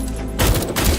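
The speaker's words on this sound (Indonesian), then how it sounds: "Terjadi baku tembak di antara mereka" Rapid gunfire in an exchange of shots between armed fighters, dense overlapping bursts that swell loud after a quieter opening moment.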